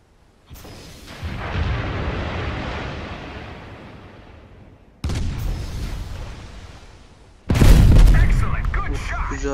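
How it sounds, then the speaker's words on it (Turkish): Warship guns fire in World of Warships, three heavy booming salvos with long rumbling decays, the last the loudest and closest, with nobody talking. "Gemiye bir atış yapacağım."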